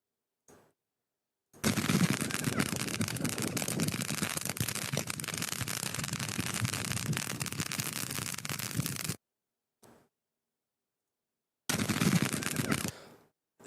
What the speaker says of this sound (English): The additional fireworks on the ground.